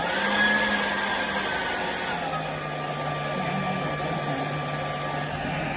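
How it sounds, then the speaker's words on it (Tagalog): A hair dryer blows steadily on a poodle puppy, a continuous close whir and hiss with a low motor drone that shifts slightly in pitch partway through. "Guys, ang aso, ayaw nila lang maingay. Kaya hate nila ang dryer."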